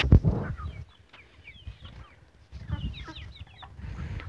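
Farm chickens cluck and chirp nearby in a rural poultry yard, soft irregular calls coming in short bursts after a brief loud thump at the start.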